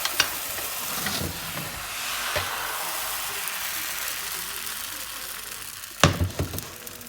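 Potato galette batter sizzles in a hot frying pan with a steady bright hiss, joined by a few sharp clatters of a utensil against the pan, and a person speaks briefly over the cooking.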